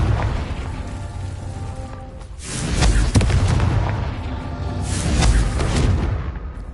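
Fire and blast spells bursting one after another in the video game Hogwarts Legacy: deep booming explosions around the 2.5 and 5 second marks, with a sharp crack near 3 seconds, over a continuous rumbling game soundtrack.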